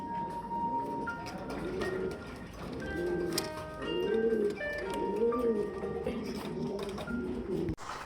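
Carbon copy breed pigeons at a breeding farm coo in repeated soft, rolling calls, close by and layered over one another, with someone talking faintly in the background.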